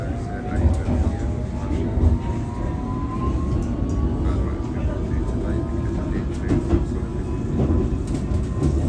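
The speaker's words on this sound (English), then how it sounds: "This is a District Line train to Richmond." A London Underground District Line train to Richmond rumbles and clatters steadily along the track, with a rising whine and faint rhythmic clicks throughout.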